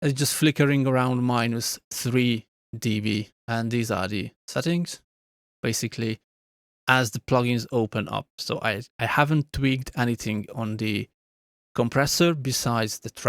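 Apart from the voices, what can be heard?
No distinct noise like a dog, phone or traffic.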